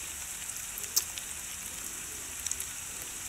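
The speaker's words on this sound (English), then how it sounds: "it's raining." Rain falling in the Roblox game Brookhaven, a soft, even hiss of steady rainfall with a couple of faint drop ticks, alone and without talk.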